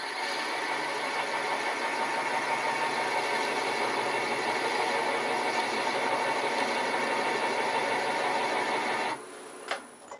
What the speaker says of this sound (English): Engage the wheel and just lift the handle until it starts cutting.